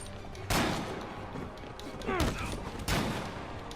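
Gunfire rings out in a Spider-Man video game, three sharp shots spaced about a second apart over quiet background ambience.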